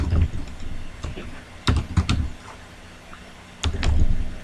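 Computer keyboard typing while entering Java code, with short bursts of key clicks separated by pauses, fairly close and moderately loud, heard alone without talk.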